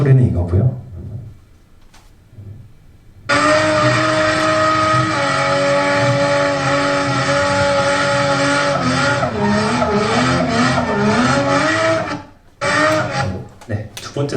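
Race car engine sound with skidding, a loud sustained tonal roar lasting about nine seconds that shifts pitch midway, preceded by quieter sounds and followed by a short burst after a gap.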